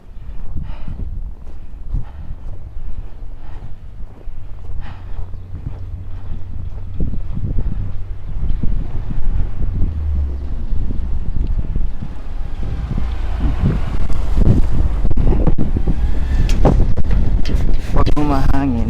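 Wind gusts buffet the microphone outdoors in deep snow, a rough low rumble that builds and grows louder toward the end, mixed with crunching footsteps and someone talking throughout.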